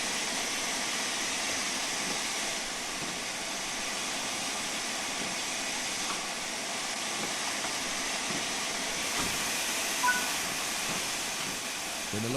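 A steady, broad hiss of escaping steam from a steam locomotive's vacuum ejector in a train simulator game, running unbroken throughout at a moderate, even level, with a faint mechanical hum beneath.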